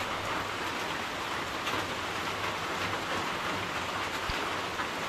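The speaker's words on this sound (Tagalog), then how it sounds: "ulan ng ulan" Rain falls steadily on a farm, a continuous even hiss of drops on surfaces and plants that holds at a moderate level throughout with no voices.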